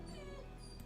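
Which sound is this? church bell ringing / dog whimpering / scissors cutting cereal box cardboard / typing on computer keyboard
dog whimpering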